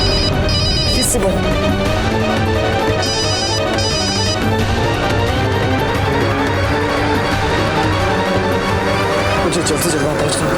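A telephone rings in repeated bright bursts over a busy, loud background of music and voices.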